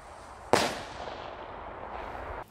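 A single sharp firework bang cracks out close and loud, then a hissing, crackling tail fades over the next two seconds and ends in a faint pop.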